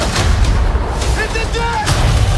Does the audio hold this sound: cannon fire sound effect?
yes